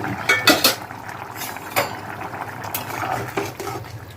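A metal lid comes off a pot of simmering papaya and potato curry, a few sharp clanks and scrapes of metal on metal up close, then quieter clinks and a soft bubbling underneath.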